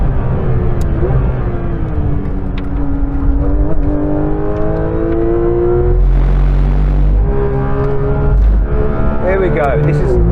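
A modified Porsche GT3 RS accelerates hard on a track, its engine note climbing and shifting through gears, loud and close, with people talking over it.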